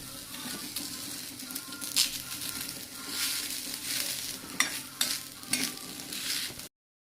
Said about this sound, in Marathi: काढलेली कोथंबीर याच्यामध्ये टाकून व्यवस्थित परतून घेऊया